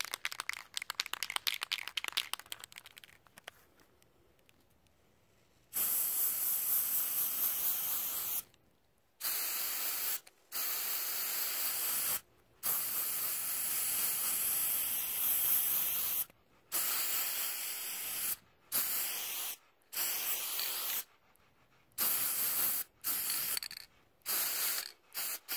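Valspar Outdoor Anti-Rust gloss peacock blue spray paint hisses from an aerosol can in a series of long, loud bursts separated by short silences. The bursts are preceded by rattling and clicking as the can is handled.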